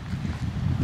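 Strong wind at the beach buffets the microphone in a low, continuous rumble with uneven gusts, loud and close for under a second.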